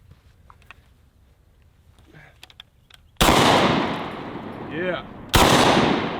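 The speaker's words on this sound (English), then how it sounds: "Let's throw a full pop can and see if we can shoot it out of the air." Two loud, close DP-12 double-barrel shotgun blasts at a thrown full pop can, each with a long rolling echo tail, after quiet clicks and a brief spoken word.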